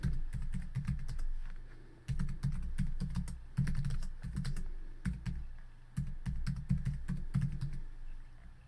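Quiet clicking on a computer keyboard comes in short, irregular bursts separated by brief pauses, close by, with no talking.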